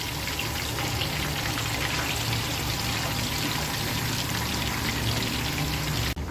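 Marinated fish pieces sizzle steadily in hot frying oil, a dense, even crackling hiss that holds close and loud throughout with no one speaking.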